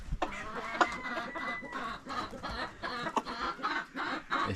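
Red roosters and hens in a backyard coop cluck continuously in a busy, close chorus of short repeated calls, with a few sharper squawks.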